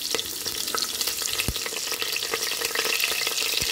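Chopped green chillies frying in a pot of mutton curry, a constant crackling sizzle with repeated stirring scrapes and a couple of dull knocks of the spoon against the pot, no talk.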